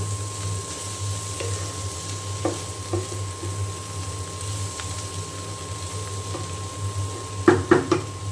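Bitter gourd frying in a pan at home, a steady low sizzle under faint hum, with a few light stirring clicks and a brief cluster of utensil taps near the end.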